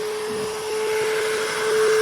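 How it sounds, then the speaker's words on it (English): A shop vacuum hooked to a domino joinery cutter runs in a woodworking shop, a loud steady whine with a constant tone that swells slightly toward the end. "So I'm going to just take the domino cutter, turn on my vacuum."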